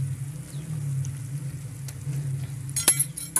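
Ginger-garlic paste sizzling in a pan of lightly golden-browned onions, a low steady frying hiss with a sharper crackle near the end, no voices.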